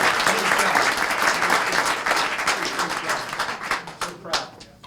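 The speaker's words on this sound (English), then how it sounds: "how about that round of applause right now for me?" Audience applause at a Hamilton city council meeting, dense sustained clapping from a crowd that thins into scattered claps near the end, with voices underneath.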